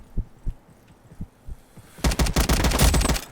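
Gunfire in the Roblox shooter Frontlines: single shots spaced about half a second apart, then a loud, rapid burst of automatic fire for the last second or so.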